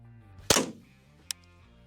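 A single loud, sharp crack from a .22 caliber firearm shot at a Tesla Cybertruck, followed about a second later by a brief metallic ping of the round striking, then near silence.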